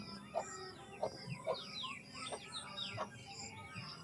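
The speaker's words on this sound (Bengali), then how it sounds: "একটা মুরগি বাচ্চা উঠেছে ছোট্ট মতো" A newly hatched chicken chick cheeps in short, faint, high chirps spaced through the moment, close by over a low background hum, with no talk.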